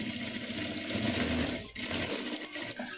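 A sewing machine stitches a double katori blouse cup, a close, steady mechanical whirr that runs evenly, then briefly halts and starts up again for the final stretch.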